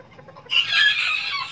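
A serama bantam chicken, a tiny breed, gives one sudden, loud squawking cluck close by after a moment of near silence, and the call holds for about a second.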